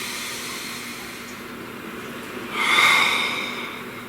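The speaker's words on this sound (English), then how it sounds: "Please take a nice deep breath." A single deep breath, drawn slowly and softly, swells near the end as an airy rush through the nose. It is close and quiet against a steady low hiss, with no talking.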